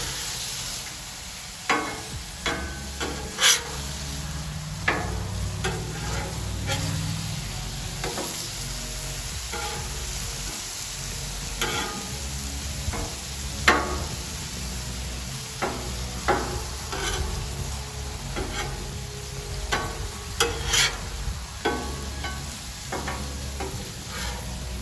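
Shrimp sizzling on a Blackstone griddle, a steady close frying hiss broken by frequent sharp scrapes and taps of a spatula as the pieces are flipped and moved, with no talk.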